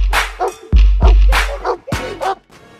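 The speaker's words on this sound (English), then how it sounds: "I just noticed it was Macy, my dog." A dog lets out a series of short, sharp yips and barks close by, broken by brief whimpering gaps, with no talk over it.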